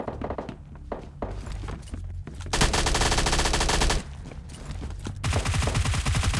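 Gunfire during a video game battle: rapid automatic bursts and single shots, sustained loud stretches of machine-gun fire broken by short pauses, with no voices over them.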